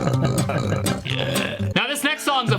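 A burp from a song, a loud throaty belch with vocal pitch sweeps, mixed with music throughout and standing out near the end.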